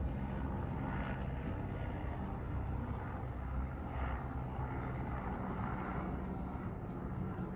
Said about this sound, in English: Sorry, it's a plane passing by.